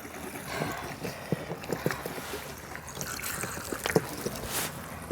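Water trickling and gurgling down into a motorhome waste holding tank at a service point, a quiet, irregular flow with small splashes and knocks, fairly close, with no talking.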